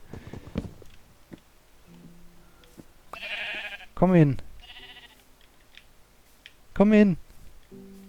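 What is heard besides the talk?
sheep bleating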